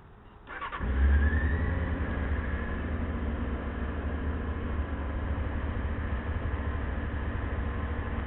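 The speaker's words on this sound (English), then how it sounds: "automatic choke, so it revs high when the bike is colder." Fuel-injected Honda CBR600F motorcycle engine cranks and fires up after a brief quiet moment, then settles into a steady, fairly high idle with a cold-start automatic choke, close and loud throughout with no talk.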